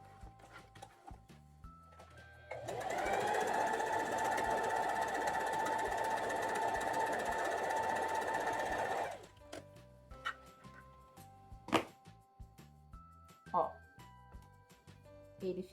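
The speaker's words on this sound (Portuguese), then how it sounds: "Você costura um pedacinho, dá uma olhada como fica, costura outro" A domestic sewing machine stitches knit fabric in one steady run of about six seconds, loud and close, then stops. Short handling clicks and noises follow in the quieter stretch.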